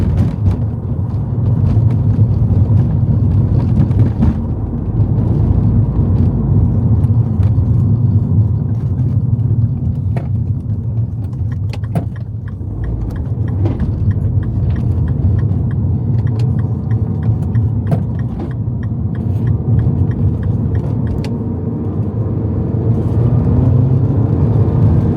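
Mini Cooper S engine pulling hard while driving, a sustained loud cabin rumble and whir that holds steady for the whole stretch with small bumps and rattles.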